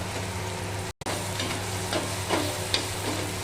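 Spiced dried bombil fish and vegetable mix sizzles in a pan while being stirred, a steady close frying hiss with occasional scraping and spoon clinks.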